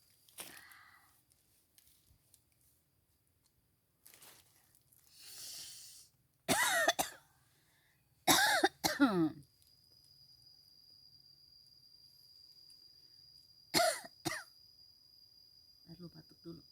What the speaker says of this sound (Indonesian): Lalu batuk dulu.